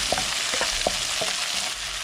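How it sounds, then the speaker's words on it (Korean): Pork stir-frying with doubanjiang in a hot wok for mapo tofu, a steady close sizzle broken by several sharp spatula scrapes and clacks, with no voices. "두반장은 꼭 볶아야 향이 납니다."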